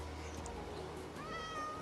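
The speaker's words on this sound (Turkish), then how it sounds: "Gri bir kedi." A grey cat in the video game Minecraft meows a few times, short game-sound mews over a low steady background.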